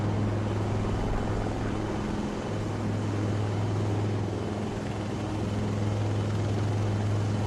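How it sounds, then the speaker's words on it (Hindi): A military helicopter at an Indian Army parade ground drill, a steady low rotor and engine drone continuing throughout at moderate distance with no voices. "वास्तविक में यहाँ पर दो हेलीकॉप्टर है परेड ग्राउंड के दाएं और बाएं।"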